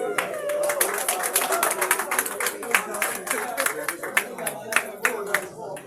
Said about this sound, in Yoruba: Ẹ máa pàtẹ́wọ́ fún olóyè Sunday